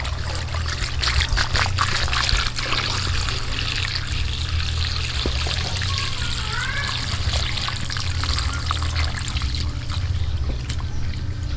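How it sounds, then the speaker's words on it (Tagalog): Water is poured outdoors into a cooking pot holding pig trotters, lemongrass and ginger, a continuous trickling splash set against a low steady hum, with no talking. "Bigyan natin ng tubig."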